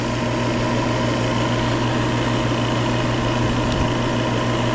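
An HVAC refrigerant recovery machine runs steadily at close range, giving a constant mechanical hum with a low motor drone and faint fan-like whir that stays even throughout, with no talking.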